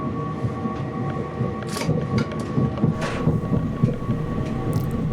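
Riding inside Northern electric unit 331023 bound for Manchester Victoria via Eccles: a steady low rumble of wheels and motors, a faint tonal whine, and occasional soft rattles and clunks.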